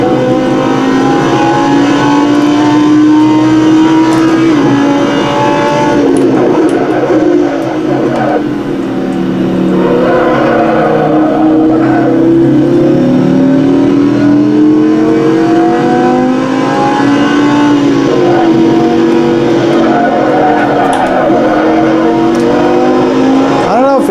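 A race car engine in a sim racing game revs and climbs through gears continuously, loud and close, with pitch sweeping up and down through shifts and braking, and a voice talks over it at times.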